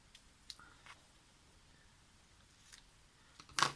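Scissors cut paper for a scrapbook photo album, giving soft, sparse snips and clicks at close range, ending in a brighter crisp crunch.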